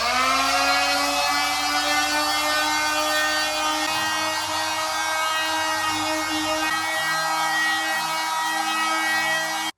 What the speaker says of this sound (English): I'm going to use a multi-tool and I've got 120 grit on the multi-tool and I'm just going to give the whole thing a quick sand.